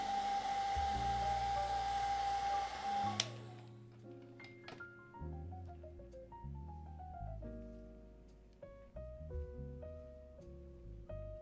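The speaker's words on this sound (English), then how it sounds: "It's the hairdryer." A hair dryer whirs with a steady, airy whine for a few seconds, then stops as a series of tuned notes takes over.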